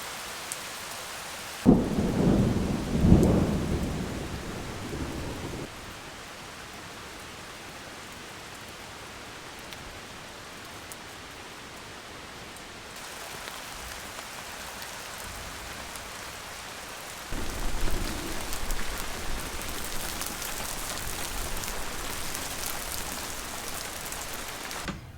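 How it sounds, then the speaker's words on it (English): Thunder and steady rain from a storm outside, heard from indoors; a heavy rumble of thunder early on, then a long wash of rain on surfaces that swells louder again near the end, with no voices. "There is a thunderstorm going on outside,"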